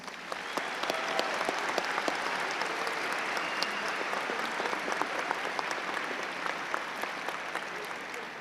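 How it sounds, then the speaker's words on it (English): Sustained applause fills a high school graduation ceremony at Mountain Range High School, a soft, distant-sounding mass of clapping from a large audience that carries evenly for several seconds. "Please, a round of applause in recognition of all of our supporters."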